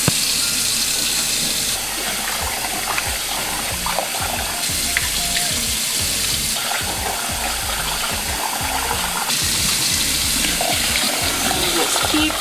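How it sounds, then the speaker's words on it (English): Rice is rinsed under a running kitchen tap, a steady loud gush of water splashing into a pot or sink throughout, with faint shifts as the grains are swirled. "So do you see how it's cloudy? That needs to be rinsed out."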